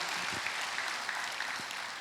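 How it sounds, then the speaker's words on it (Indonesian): Church congregation applauding, a steady wash of many hands clapping together for about two seconds, fairly even and moderately loud. "Yang percaya kasih tepuk tangan buat Tuhan."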